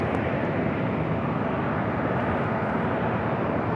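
Jet airliner engines roaring at San Diego airport as a plane powers up for departure on runway 27, a steady broadband rumble heard from a distance, with no voices over it.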